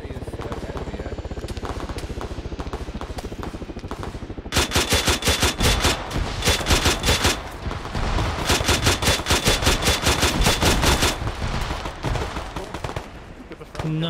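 Grenade machine gun fire in the video game Arma: a steady rumbling bed gives way to long runs of rapid, evenly spaced heavy reports that hammer on for several seconds, pause briefly, then resume.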